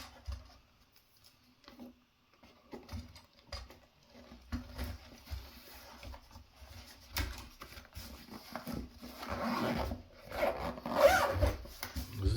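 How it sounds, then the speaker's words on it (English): A travel fishing rod bag being zipped shut, with soft rubbing and rasping zipper pulls that grow louder near the end, alone without talk. "zip it up"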